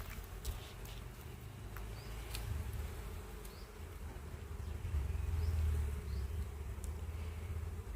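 A steady low buzzing of honey bees hums close by, continuous and droning, with a few faint ticks and rustles in the background.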